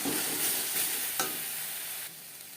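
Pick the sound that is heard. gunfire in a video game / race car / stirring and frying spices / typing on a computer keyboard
stirring and frying spices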